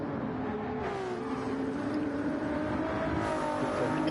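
A Ferrari race car engine in a racing video game, GT2 and GT3 cars at Saint Croix, a steady high drone that climbs slightly in pitch, heard close and alone without talk.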